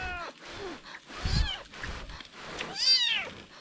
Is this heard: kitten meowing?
yes